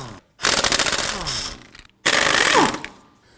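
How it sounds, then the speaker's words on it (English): Impact wrench with a 19mm socket loosening lug nuts on a 2003-2014 Volvo XC90 rear wheel, two loud rattling hammering bursts of about a second each, close up, separated by a short silence. "Using a 19mm socket, we want to get it loosened and remove our lug nuts."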